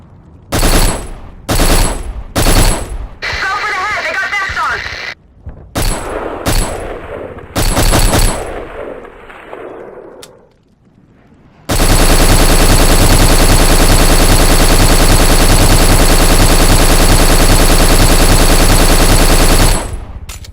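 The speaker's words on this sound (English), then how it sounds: "Every explosion had weight, every bullet crack had direction, and the sheer volume of it all created an atmosphere of constant intensity." Gunfire and explosions from the video game Black: sharp bursts of shots and heavy blasts in loud, broken bursts, then a long, dense, sustained barrage of rapid fire that fills the last half of the clip, with no talk.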